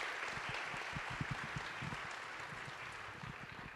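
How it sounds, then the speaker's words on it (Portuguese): A seated audience at a panel discussion gives steady applause, a continuous wash of clapping with a few distinct individual claps, heard fairly quietly from a distance. "Palmas"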